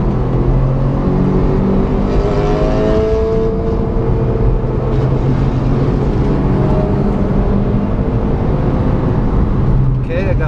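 A car engine runs and revs in a racing setting, a steady loud drone with rising and falling harmonics throughout, while a voice talks over it.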